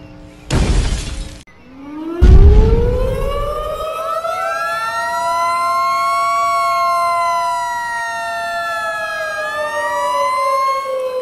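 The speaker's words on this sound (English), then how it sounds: "Don't worry about those sirens." Emergency sirens wail at a power plant after two loud crashing bursts of shattering noise, then a single siren rises and sweeps in long, slowly swelling tones that fill the rest of the clip.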